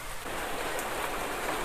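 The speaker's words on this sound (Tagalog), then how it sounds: "Sobrang lakas ng ulan." Heavy rain pours in a dense, steady hiss, close and even throughout, with no voices.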